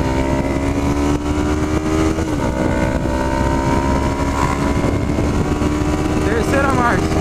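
A Honda CB500 motorcycle accelerating in second gear, its engine note rising loud and close over heavy wind rush, with a voice talking over it.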